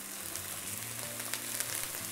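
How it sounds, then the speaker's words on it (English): Apples with lemon juice sizzle and fry in a hot pan, a steady close crackle of spitting liquid with small pops and faint stirring scrapes, no voices. "This is gonna sizzle because we're adding lemon juice also to this."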